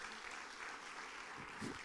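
Church congregation applauding together, a dense steady wash of clapping from many hands that holds evenly through the short moment with a faint voice underneath.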